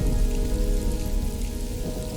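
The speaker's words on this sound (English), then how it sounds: "By morning, the rain still doesn't stop." Steady rain falls in a cartoon flood scene, a dense, continuous wash of drops on surfaces with no pauses and no voices.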